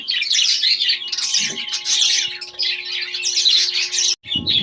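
Pet parakeets chirp and squawk in a dense, continuous chatter of bright calls, close and loud, with a brief break near the end and a low rustle as it resumes.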